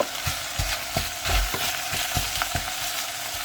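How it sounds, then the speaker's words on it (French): Onions and bacon lardons browning in a pan, a steady close sizzle punctuated by regular soft scraping strokes of stirring every half second or so. "Mes oignons et mes lards commencent à dorer"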